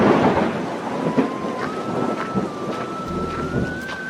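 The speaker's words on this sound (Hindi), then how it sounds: "जंगल में पहुंचते ही अचानक तेज बारिश शुरू हो जाती है।" Heavy rain and rumbling thunder in a dark forest form a steady, loud wash of noise throughout, with a thin sustained tone drifting faintly above it.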